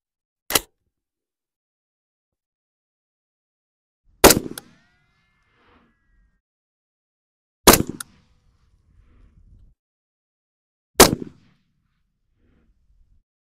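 Four loud, sharp .308 AR rifle shots at a shooting range, widely spaced with silence between them and faint mechanical rattling after some reports.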